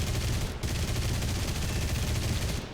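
Rapid bursts of Yak-1b cannon fire from a Russian aircraft in War Thunder, loud continuous automatic shooting that runs almost unbroken through the clip.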